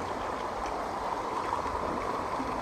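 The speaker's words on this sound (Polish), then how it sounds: "Bobry zrobiły tamę. I woda się przelewa." Water spilling over a beaver dam on a fishing stream, a steady close rush and gurgle that carries evenly throughout with no speech.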